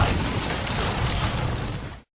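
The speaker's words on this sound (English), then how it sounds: "The explosion just a few feet away." A movie explosion blasts out as a loud, broad roar that holds for about two seconds and then cuts off abruptly into silence.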